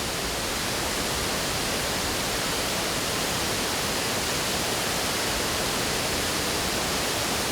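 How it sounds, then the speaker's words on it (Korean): Kuang Si waterfall in Laos, a large tiered cascade, sends out a dense, unbroken roar of falling water, loud and even from start to finish, with no other sounds or voices. "소리를 따라 발걸음을 옮기다 보면 크고 웅장한 폭포를 만나게 된다."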